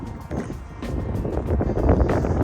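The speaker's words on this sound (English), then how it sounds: "Oh, it's windy." Gusty wind buffeting the microphone outdoors at an electric car charging stop beside a small casino, a steady low roar with rising and falling rumbles and no talking.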